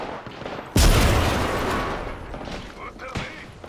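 A single heavy gunshot bursts out in the Apex Legends video game, loud and close, its boom decaying over a couple of seconds, followed by a fainter second crack near the end.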